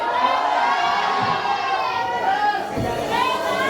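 A live concert crowd shouts and cheers loudly in a sustained, overlapping roar, with many voices yelling together close by throughout.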